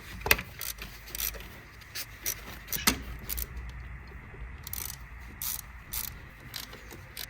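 Ratchet clicking in short bursts while 10mm bolts are undone on the intake of a Mazda 6 2.2 Skyactiv diesel, close and fairly quiet, with metallic tool knocks and pauses between runs.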